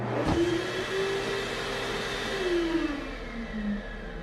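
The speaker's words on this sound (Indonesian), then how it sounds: "terdengar suara pengering tangan yang sedang ngahieng" A hand dryer runs in a restroom with a steady whirring hum and a rising and falling tonal whine, heard close and continuous after a brief sharp knock at the start.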